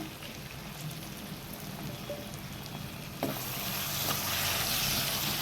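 Prawns and tomatoes frying in oil in a home kitchen pan, a steady soft sizzle that swells louder partway through after a single clack, with no talking.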